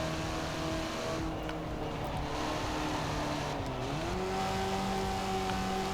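A 1979 Triumph TR7 roadster in Forza Horizon 4 accelerates hard uphill at around 50 mph under full throttle, its engine note holding a steady drone and then climbing in pitch, loud and continuous throughout.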